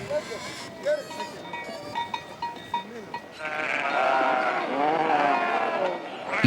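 Sheep and goats at a desert well bleating repeatedly, a chorus of overlapping calls building into a dense, loud flock din, with a voice talking over the animals.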